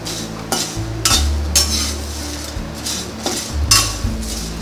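Whole garam masala spices and leaves are dry-roasted in a pan and stirred in repeated scraping strokes. The close, loud rasps of spoon on metal fall in a steady rhythm.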